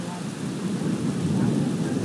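Low rolling thunder from a lightning storm in Boston, a deep rumbling swell that builds gradually and stays loud to the end, heard on its own.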